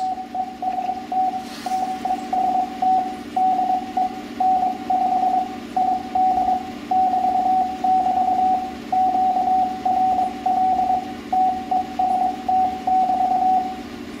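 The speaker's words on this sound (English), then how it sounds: "As you can hear, the memory keyer is just much improved." CW Morse code test message sent from the memory keyer of an RS-918 HF transceiver into a dummy load, a steady single-pitch tone keyed in rapid dots and dashes over radio hiss, loud and continuous throughout.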